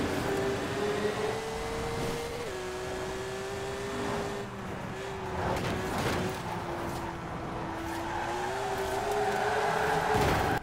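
A 1951 Porsche in Forza Horizon 4 holds a sustained, strained engine note with its tires spinning, pitch wavering and stepping as it shifts, steady and fairly close with no talking.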